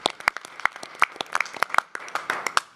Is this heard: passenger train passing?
no